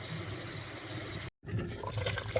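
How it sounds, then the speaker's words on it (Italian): Water poured from a tomato bottle into a cooking pot of coda alla vaccinara, an Italian oxtail stew, gives a steady splashing stream that breaks off briefly, then resumes with bubbling and gurgling. "aggiungo l'acqua qui dentro per sciacquare l'altro pomodoro che c'è qua dentro e per aggiungere l'acqua dentro alla pentola"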